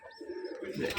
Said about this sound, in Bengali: এই যে মশলা কবুতরটা অনেক সুন্দর